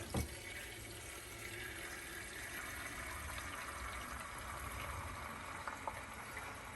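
Hot water pours steadily into the gas tank of a Troy-Bilt Bronco tiller being checked for a leak, a continuous low rushing fill that stays soft and even throughout.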